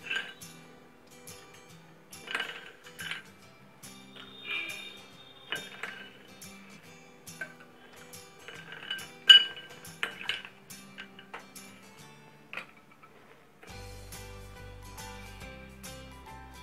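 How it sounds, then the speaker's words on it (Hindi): Ice cubes drop and clink into a glass of Rooh Afza sharbat in a series of sharp, bright chinks and rattles, close by and loud against near silence, with no voices. "अब हम इसमें आइस ऐड करेंगे।"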